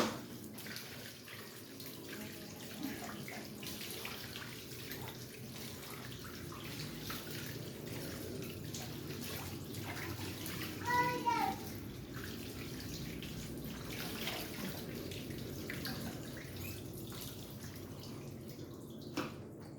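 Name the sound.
water running from a tap while washing food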